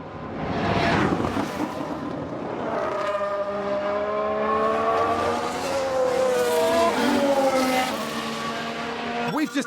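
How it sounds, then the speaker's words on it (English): In F1 Manager 22, 1995 season with Benetton, race cars roar with tire squeals and skidding during a crash on track, engines sweeping in pitch as they pass and fade. "We've just had a crash on the track."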